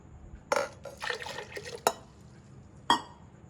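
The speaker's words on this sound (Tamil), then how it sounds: "இப்போதைக்கு இந்த தண்ணியை ஃபுல்லும் ஊற்றிட்டு" Water poured from a vessel onto soaked raw rice in a container before grinding, heard as short splashy gushes and a few sharp knocks, close up and separated by pauses.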